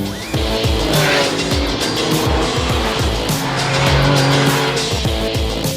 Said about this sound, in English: Now I'm gonna click it up to Sport Plus and see how that is.